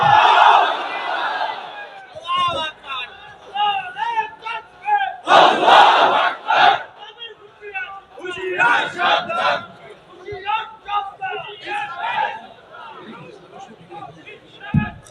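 A large crowd at an Islamic religious sermon gathering roars back the takbir in loud, repeated bursts of chanted response, mixed with a preacher's amplified voice and echoing over a big outdoor space.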